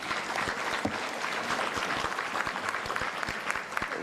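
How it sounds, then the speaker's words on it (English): Dense crowd applause at a renewable energy conference and expo, honoring a panel; continuous clapping from many hands, loud and sustained throughout with no speech. "Another round of applause for our panelists."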